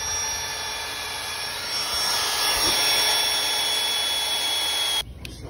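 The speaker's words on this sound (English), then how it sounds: "now I'm drilling through Sandy's bike" A power drill bores through a Harley motorcycle footpeg, giving a steady, loud, high-pitched whine that holds for about five seconds before cutting off abruptly, with no talking.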